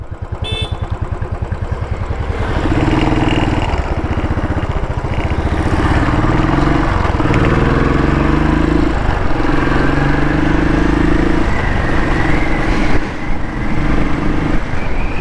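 A Royal Enfield Bullet 500 with a UCE engine idles and revs nearby, its single-cylinder thump steady and loud, pitch rising and falling in repeated throttle blips.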